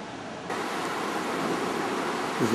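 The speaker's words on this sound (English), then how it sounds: "the sound you hear in the background is one of the weirs across the Murray" Water rushes over a weir on the Murray River at Mildura as a steady broadband roar, heard from a distance beside the wharf, growing a little louder after the first half second and continuing without a break.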